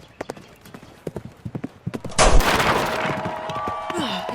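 Horses gallop in a knights' joust for a fantasy audio roleplay: rapid clip-clop hoofbeats grow closer, then a loud crashing impact of breaking lances is followed by a sustained rumbling din, with faint voices in the background.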